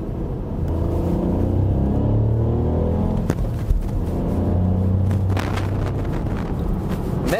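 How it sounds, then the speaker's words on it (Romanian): A 2020 Ford Puma mild-hybrid with a three-cylinder turbo engine, heard from inside while driving: a steady low droning rumble with some road and wind noise, fairly loud throughout with no talk. "Motorul în 3 cilindri, sunet specific, foarte enervant pentru cineva care iubește mașinile."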